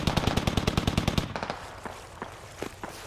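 Heavy caliber machine gun fire in the military shooter game Squad, a fast rattling burst of close shots followed by slower, more distant scattered gunfire.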